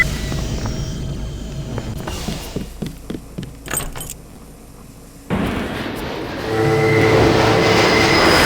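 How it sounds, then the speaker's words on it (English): A train in the video game Deus Ex Machine God starts moving: a low rumble gives way to a string of sharp mechanical clanks, a short lull, then a heavy thud and a rising, steady rolling drone. "Use the key I gave you on the control panel in the train. It should start moving immediately."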